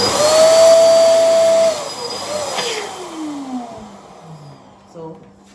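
A hand pump pushes air into a clear bobo balloon, giving a loud sustained whooshing whine that cuts off, followed by softer falling squeaks and rubbery stretching sounds as the balloon fills, with a brief tap near the end.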